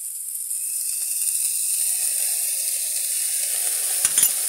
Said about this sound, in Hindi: थोड़ा भूनेंगे हल्का